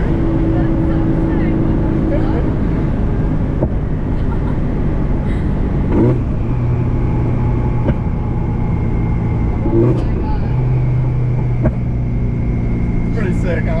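A Subaru STI engine pulls hard through the gears, a continuous loud drone rising in pitch with several shift breaks along the way, heard close from inside the car.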